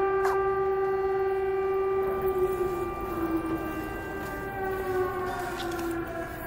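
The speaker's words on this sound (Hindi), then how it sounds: "ओके साइरन बंद हो गया" A steady wailing siren from the video game Stray, several sustained tonal layers holding constant pitch across the whole stretch over a low rumbling background, loud and continuous without any talk.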